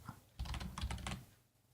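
A computer keyboard is typed on in a quick burst of soft, close key clicks lasting under a second, quiet overall.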